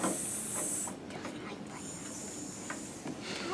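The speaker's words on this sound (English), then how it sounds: "is a teapot with the steam coming out" A teapot hissing as steam escapes, a faint, thin, airy hiss that runs in two stretches with a brief gap between them, quiet and alone without speech.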